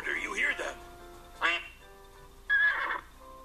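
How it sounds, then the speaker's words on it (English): A duck quacks in a short burst, then a horse whinnies twice, as clear recorded animal sound effects played in a children's listening game about the order of animal sounds. "The duck first and then the horse, right?"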